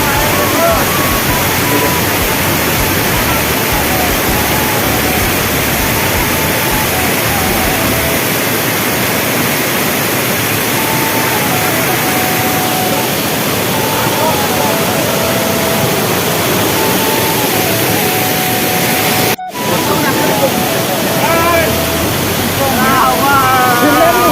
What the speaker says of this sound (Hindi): ये लांगमुकु वाटरफॉल, तो आप सब देख सकते हैं। देखो कितना ऊपर से पानी आ रहा है